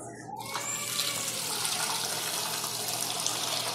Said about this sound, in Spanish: Para que le eches bastante agua.